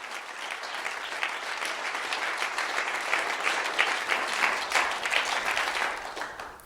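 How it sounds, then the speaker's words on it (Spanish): Church congregation bursts into sustained applause, many hands clapping in a full, even roar that swells slightly toward the middle before easing off at the end, with no voices on top. "Fuerte el aplauso si es para Él."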